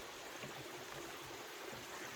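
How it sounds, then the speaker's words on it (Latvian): A mountain waterfall rushing in a steady, broadband roar heard up close, continuous and unbroken, with no voices. "Re, kur ir tas iespaidīgais kalnu ūdenskritums."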